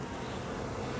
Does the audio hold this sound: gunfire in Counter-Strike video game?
no